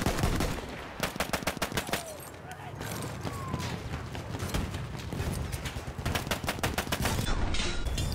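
Rapid video game pistol fire from a Kolibri, bursts of sharp, evenly spaced shots in quick strings with pauses between, loud and close, with scattered battle noise and talk.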